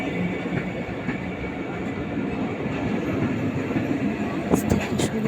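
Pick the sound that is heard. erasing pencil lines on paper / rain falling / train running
train running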